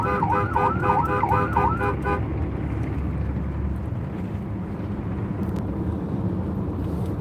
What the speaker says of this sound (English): So I think we're the only one in the convoy with sirens.